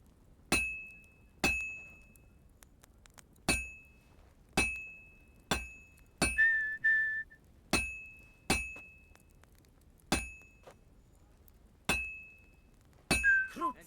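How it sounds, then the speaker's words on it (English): A blacksmith in the video game Kingdom Come: Deliverance II hammers metal on an anvil, giving about a dozen sharp, ringing strikes at a steady, unhurried pace, each decaying quickly, with a brief scraping tone between blows. "I have to hammer it more evenly."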